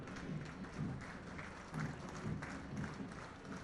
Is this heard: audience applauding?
yes